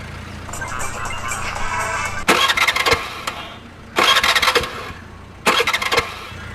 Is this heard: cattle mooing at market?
no